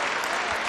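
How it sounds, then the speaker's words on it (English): Crowd applauding at the 2021 US Open Pool Championship semi-final between Carlo Biado and Naoyuki Oi, a steady dense wash of clapping from the arena audience. "you could just hear the crowd there"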